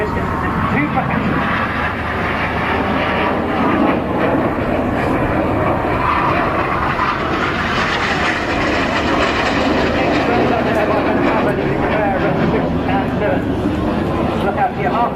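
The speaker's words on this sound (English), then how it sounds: "they fly their aircraft at 400 miles an hour" Aerobatic jet aircraft racing past at around 400 mph at the Bournemouth Air Show 2008, a loud continuous roar lasting the whole stretch, steady and broad with a commentator's voice faintly mixed in.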